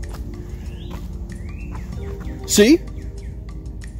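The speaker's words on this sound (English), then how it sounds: "Hey, you heard that bird?" A wild bird sings along a wooded hiking trail on Campgaw Mountain, two rising whistled chirps standing out over steady outdoor background, followed by a brief spoken voice.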